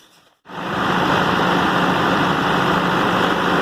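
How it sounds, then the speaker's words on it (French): Diesel generator set bursts into life after a forced start, a sudden loud engine roar following near silence and then holding a steady, heavy running drone. "Là, on vient de passer au démarrage moteur forcé"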